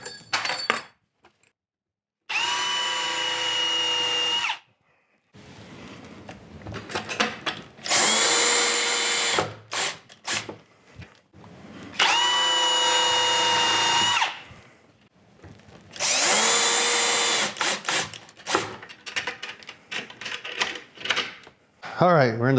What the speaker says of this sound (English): Mark where we want to drill.